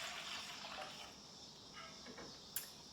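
Water pouring from a measuring cup with oatmeal into a large saucepan, a soft steady splashing pour that fades after the first second, with a brief clink near the end.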